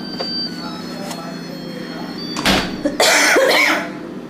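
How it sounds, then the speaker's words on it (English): A couple of harsh coughs and some throat clearing close by, breaking in after a stretch of steady low background hum. "sorry about that cough"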